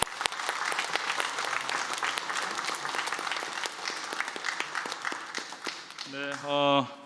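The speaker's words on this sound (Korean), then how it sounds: "무엇보다 하나님께 영광의 박수 하도록 하겠습니다." Church congregation applauding together in a Korean Sunday worship service, a dense, steady wash of clapping that fills the room for several seconds before a voice begins speaking near the end.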